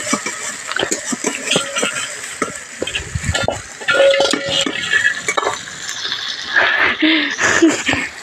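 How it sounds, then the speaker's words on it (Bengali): Onions and tomatoes stir-frying in a pan in a home kitchen, with spatula scrapes and clinks against the metal over a soft sizzle, while voices chatter nearby. "এবার পেঁয়াজ আর টমেটো কষছে"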